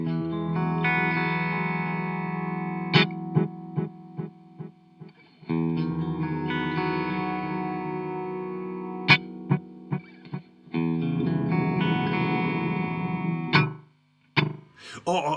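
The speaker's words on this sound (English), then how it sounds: "It's quite a dark delay. It's very dark, yeah." Electric guitar played through an Old Blood Noise Endeavors Black Fountain delay pedal, with dark, murky sustained chords and repeating echoes, broken by sharp picked accents and brief pauses.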